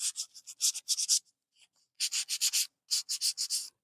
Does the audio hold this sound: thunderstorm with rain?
no